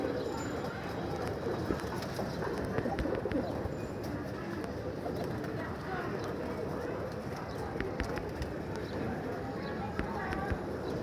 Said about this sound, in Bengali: কবুতরগুলো ফুর্তিতে আছে ফুরফুরা মেজাজ আছে